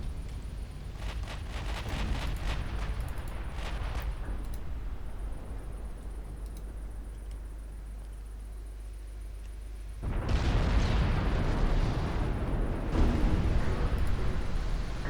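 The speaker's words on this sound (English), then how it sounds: "My dear Japanese battlecruisers, you are free to start firing HE ammo." Battlecruisers firing high-explosive shells in Ultimate Admiral Dreadnoughts, a continuous rumbling barrage of distant booms that grows louder and denser partway through, with no voices.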